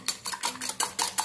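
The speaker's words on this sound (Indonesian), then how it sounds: "Ini kita whisk ya. Atau kalau kalian nggak punya whisk, kalian bisa pakai garpu." Egg being whisked in a bowl for brownie batter with a whisk or fork: about seven quick, evenly spaced metallic clinking strokes, close and clear, with no talking.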